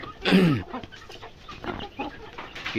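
Indonesian free-range native chickens cluck and squawk around a coop just after feeding, one loud call near the start followed by scattered softer clucks and rustling.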